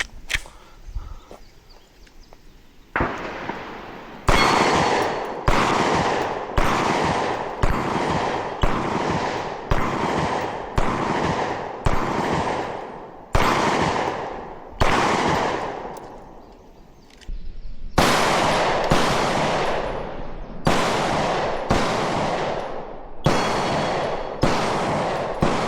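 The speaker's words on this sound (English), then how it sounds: "If I squeeze the trigger, it's going bang." Pistol shots from a Canik MC9 Prime or TTI Combat handgun ring out one at a time, loud and close, with sharp cracks and short reverberant tails, about twenty rounds in a steady, unhurried rhythm.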